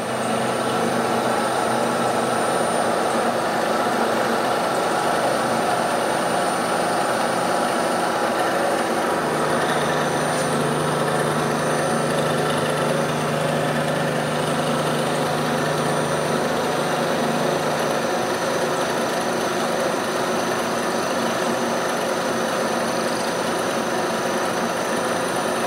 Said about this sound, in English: it is machining a little bit more in the corners than on the side, because of the diameter difference